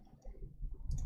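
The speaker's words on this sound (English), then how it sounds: "I'm going to double click" A computer mouse double click: two small, quiet clicks close together against a soft background, with no one talking.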